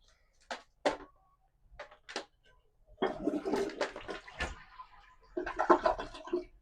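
A newly installed soft-close toilet in a remodeled bathroom flushes with a rushing, gurgling surge of water after a few short knocks and clicks, close by and fairly quiet.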